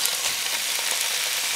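Pork sizzles steadily in melted Kerrygold butter in a pan, a dense, even frying hiss that holds without a break and with no voices.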